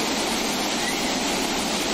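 Water rushes through the opened gates of the Maharani Laxmibai dam at Chanderi Ghat after continuous rain, about 125,000 cusecs per second, making a loud, steady, broadband roar with no pauses.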